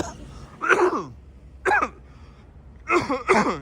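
A person coughs in three bursts, a harsh double cough, a short single cough, then a final pair, close and loud against a quiet background.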